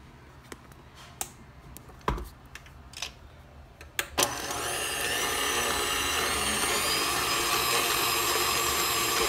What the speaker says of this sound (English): And then we're gonna continue whipping.